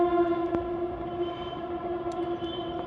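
A passing train's horn sounds as a long, steady harmonic tone that fills the clip, loud and fairly near, over a rumbling background with no talk.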